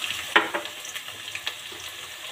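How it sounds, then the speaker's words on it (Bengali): Chopped onion hitting a pan of lightly fried whole spices and cardamom for chicken khichuri, giving a brief sharp sizzle followed by a soft, steady crackle up close, with no talking. "এবার দিয়ে দেবো 1 কাপ পেঁয়াজ কুচি।"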